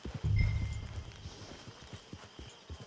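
Horse hooves clip-clopping in Red Dead Redemption 2 near a camp, a steady walking rhythm of soft thuds at moderate distance after a brief low rumble, with no talk over it.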